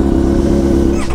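A motorcycle engine on a race circuit drones loud and close in a steady, low buzzing tone, rising briefly at the very end.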